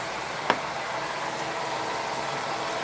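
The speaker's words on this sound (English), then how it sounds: "Somebody's using the blow dryer." A blow dryer runs steadily in a room during a hair-care session on gray salt-and-pepper hair, giving a constant broad whooshing hiss with one brief click near the start.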